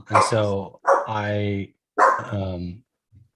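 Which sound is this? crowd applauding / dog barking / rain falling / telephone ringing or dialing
dog barking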